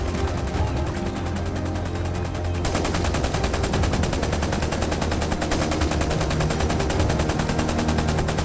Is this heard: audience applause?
no